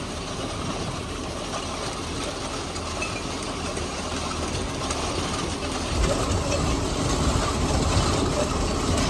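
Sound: MTZ-892 tractor engine running while sowing wheat with seeder

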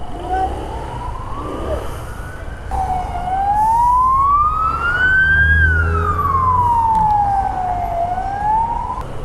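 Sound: ambulance and police sirens approaching

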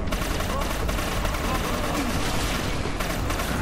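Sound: gunshots in a video game

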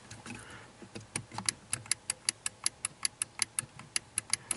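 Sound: automotive relay clicking

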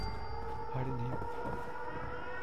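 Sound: siren in Fallout 76 video game

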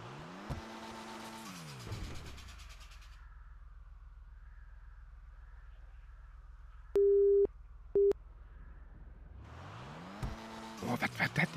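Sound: phone busy signal in roleplay video game

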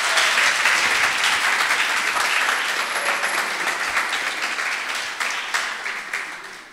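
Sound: audience applause

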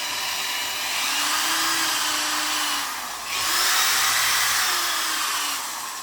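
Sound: rough sanding of a guitar

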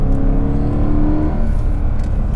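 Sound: sports car V8 engine revving

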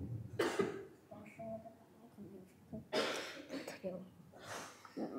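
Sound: coughing in a dance class

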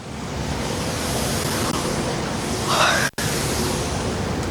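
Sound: street water sprinklers spraying on central square

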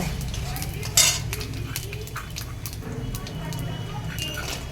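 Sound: stirring dry chillies, bay leaf and panch phoron in hot oil

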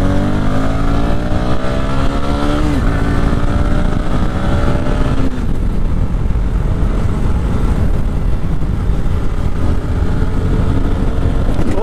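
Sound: Bajaj Pulsar NS200 motorcycle riding

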